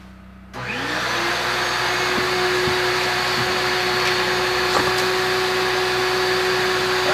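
A vacuum cleaner switches on and runs with a steady, loud whine as it sucks a pull line, tipped with a scrap of plastic bag, through electrical conduit for a generator setup.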